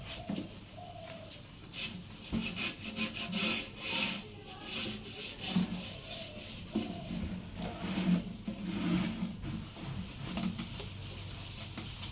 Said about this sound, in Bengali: এটাকে ভালো করে ঘষে মেজে পরিষ্কার করতে হবে অনেক অনেক শ্যাওলা হয়ে গেছে